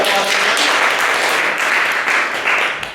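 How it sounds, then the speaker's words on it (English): Audience applause fills a room at a blogging workshop session, a steady, dense wash of many hands clapping together for about three seconds, fairly close and loud, with no talking over it. "Let's give her a round of applause."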